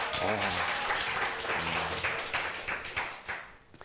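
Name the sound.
congregation clapping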